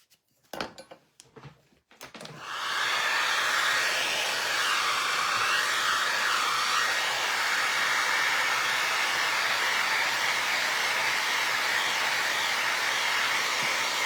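A hair dryer dries decoupage on a vinyl record, a loud, steady whooshing blow that starts after a couple of seconds of brief handling knocks and runs unbroken to the end.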